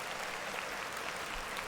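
An audience applauds in a brief, even burst of clapping, fairly quiet and continuous, with no talking over it.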